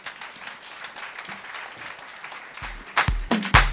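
Faint scattered applause from an audience at a distance, with a few louder, closer claps and knocks breaking through near the end.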